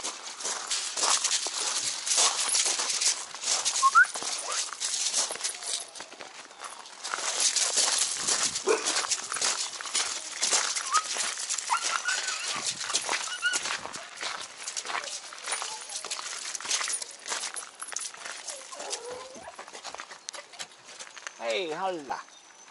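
A young puppy, about fifteen weeks old, moves outdoors in bad, wet weather, with scuffling footsteps, rustling and a few small whimpers against steady wind and rain noise, and a person speaks briefly.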